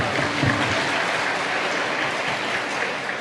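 Sustained applause from a large audience at a Teej festival gathering in Jaito, a dense, steady clatter of many hands that stays loud and even throughout.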